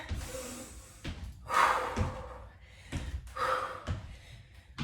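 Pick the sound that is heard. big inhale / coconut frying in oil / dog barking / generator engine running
big inhale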